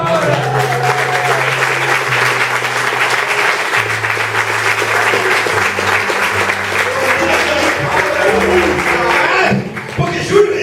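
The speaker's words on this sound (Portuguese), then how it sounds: "Isso merece uma baita salva de palmas." A church congregation breaks into loud applause during a sermon, dense clapping throughout with a sustained musical tone underneath and voices mixed in.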